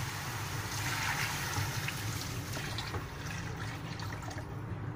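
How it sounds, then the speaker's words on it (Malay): Water poured into a pot for chicken soto broth, a soft splashing trickle that swells briefly and then settles into a gentle steady flow. "Kita akan lepaskan air untuk kuah."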